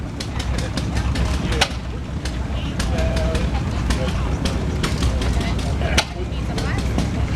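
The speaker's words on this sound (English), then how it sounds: "There's a Russell engine." A Russell engine runs at a steam and gas show, a steady low chugging rumble with occasional sharp clanks, heard amid outdoor crowd noise and nearby talk.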